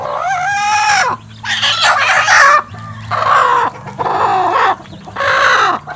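Chickens squawk and cluck loudly nearby in repeated bursts separated by short pauses, with a low steady hum underneath.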